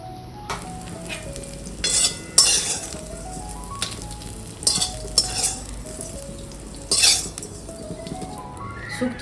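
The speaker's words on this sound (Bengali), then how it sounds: "সবজিগুলো সব ভাজা হয়ে গেল তেল গরম হয়ে গেছে" Vegetables for Bengali shukto frying in hot oil, a continuous close sizzle broken by repeated spoon stirs and metal clinks against the pan.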